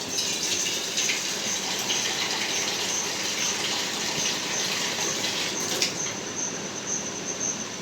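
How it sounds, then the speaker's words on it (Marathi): A steady rushing gush of water pours continuously into a cooking pot for dal and rice, broad and even throughout, with a slight shift near the end. "आता मस्त पैकी पाणी घालायचं."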